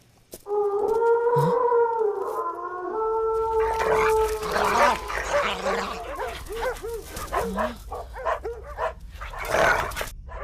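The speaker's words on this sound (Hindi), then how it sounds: "ये इतने सारे कुत्ते काट लिया तो लेने के देने पड़ जाएंगे" Several dogs barking and howling, with a drawn-out howl first, then a rapid, overlapping burst of close, loud barks and yips continuing to the end.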